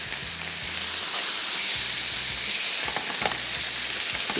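Chicken fries with tomato paste in a pan over low heat, a loud, steady close sizzle with occasional stirring scrapes throughout.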